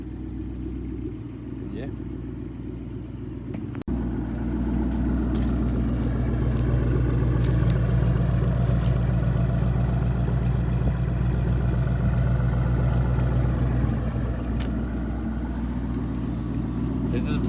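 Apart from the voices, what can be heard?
Ford Mustang engine cold start and idling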